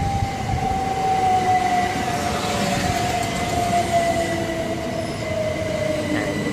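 A Southeastern class 375 electric train, the Ramsgate to London Victoria service, moving through Bromley South station with a steady rumbling roll, a long whining tone sliding slowly downward and faint wheel squeal throughout.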